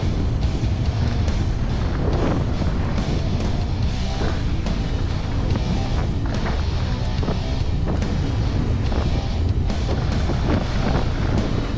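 Wind roars over the microphone throughout a mountain bike park run, a loud, continuous buffeting rush with rattles and bumps from the ride beneath it.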